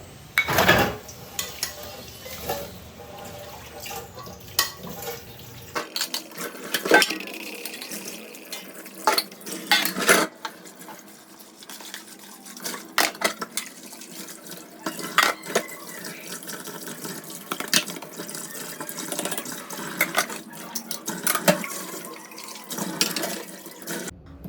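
Dishes being washed in a home kitchen sink under a running tap, with water splashing steadily and plates, pots and cutlery clinking and scraping throughout, close and fairly loud with no talking.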